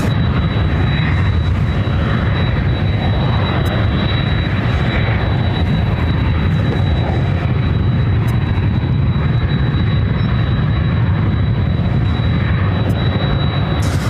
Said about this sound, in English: UPS flight 919, a 767-300ER, 4 years of age